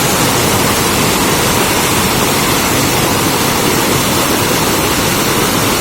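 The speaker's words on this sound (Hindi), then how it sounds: "ये गधेरा अभी और भी ज़्यादा बढ़ने वाला है।" A mountain stream swollen by heavy rainfall rushes in a loud, dense, unbroken roar of churning water that fills the whole scene, close by and with no voices.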